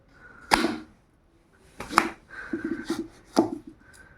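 A knife cuts through a dragonfruit Christmas cake in four sharp, separate taps against the board, spaced about a second apart, with soft scraping between them and no talk.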